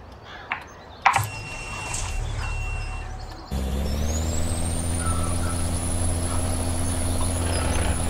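A truck in a farming video game idles with a low engine rumble and a rising whine, with a few clanks and a hiss at the start, then a steady drone and intermittent reversing beeps.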